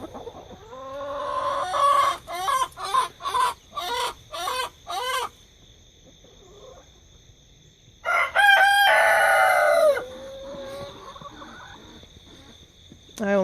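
A rooster crows loudly nearby, one long call followed later by another, with clucking bursts and a voice talking between.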